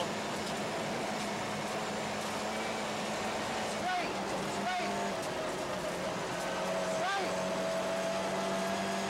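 A 400-horsepower, 7-speed Ford Escort Cosworth rally car on the 1994 Rally Baie des Chaleurs drones steadily at speed, a loud continuous engine roar with shifting revs, heard from close by as though from inside the car.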